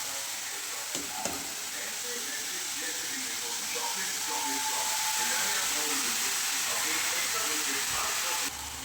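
Grated carrots fry in ghee for gajar halwa, giving a dense, even hiss of sizzling that holds steady and close for the whole stretch, with a faint voice murmuring beneath it.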